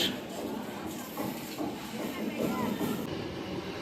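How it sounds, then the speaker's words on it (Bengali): A train pulls into a railway station, a steady broad rumble and hiss with faint rhythmic clatter, loud and close, while people murmur in the background. "আর এদিকে ট্রেন তো ঢুকে গেছে"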